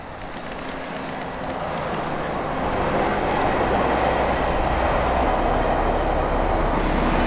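A British Rail Class 40 diesel locomotive train passing outdoors, a rumbling roar that swells steadily as it approaches and stays loud and close, with no talking.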